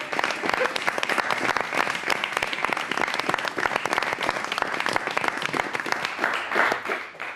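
A studio audience at a talk show applauds guest Aleksandra Dabić with dense, sustained clapping from many hands, steady and fairly close throughout.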